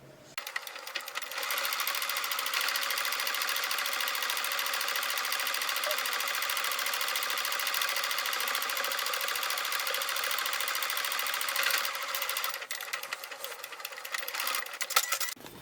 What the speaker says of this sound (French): on va faire une couture ici comme ça sur le bord